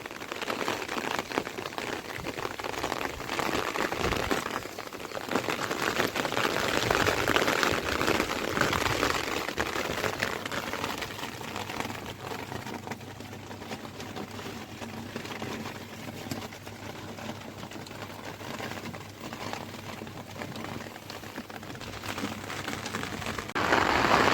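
Heavy rain pours down on a flooded village, a dense, loud and continuous roar of drops on surfaces that holds steady for the whole stretch, with no voices.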